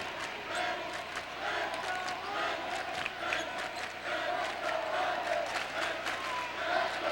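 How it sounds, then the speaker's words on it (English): Loud basketball crowd at a 2003 Division 3 regional final high school game, two rival cheering sections roaring and chanting continuously, with scattered whoops and battle-cry shouts throughout. "Two very good cheering sections here tonight, Bob, I'll tell you. Oh, that's loud."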